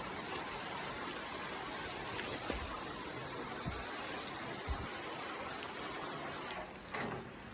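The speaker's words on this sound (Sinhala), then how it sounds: "දැන් ආයෙ වහින්න ගත්තා." Steady rain falling on a surface near Waranagala, Sri Lanka, a soft continuous patter with a few heavier drops landing now and then.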